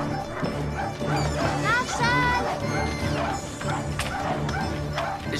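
A very sick dog gives a few sharp barks mixed with high, whining whimpers, close by, while people talk over it.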